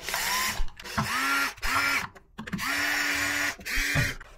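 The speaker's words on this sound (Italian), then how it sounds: "le imbocchiamo con l'avvitatore ma senza tirarle troppo" A cordless screwdriver drives screws into wall plugs during work on an old Bticino 642 fuse switch, giving several short whirring bursts with ratcheting clutch clicks and brief pauses between them, loud and close with no talking.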